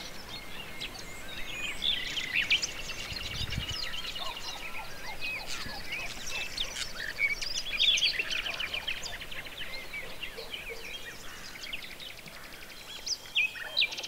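Birdsong fills spring countryside in the Villuercas, with many overlapping chirps and trills at moderate distance, fairly steady throughout, with no talking.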